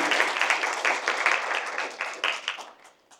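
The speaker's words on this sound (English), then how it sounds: "one big, huge round of applause for Nuria, please." An audience claps for a speaker at a UAMP business presentation, a dense round of applause that holds steady for a few seconds, then tapers off and fades out.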